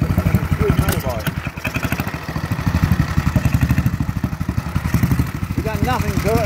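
A 1928 Sunbeam Model 6 500cc motorcycle engine runs steadily close by, a rapid chugging pulse that holds even throughout, with voices briefly heard over it.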